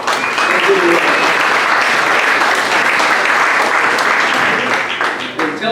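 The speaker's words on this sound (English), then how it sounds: "let the record show that there was applause for that because he deserves it" An audience at a fundraising meeting applauds steadily and loudly, sustained clapping from many hands filling the whole stretch before tapering slightly at the end.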